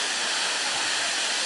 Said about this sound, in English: the people that say this is the best waterfall